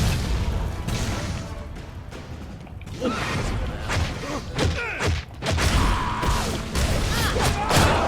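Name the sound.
bombs detonating in the video game Shank 2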